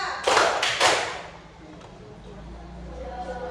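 Two or three loud, sharp hand claps ring out close together in a classroom, followed by a quieter room with faint background noise.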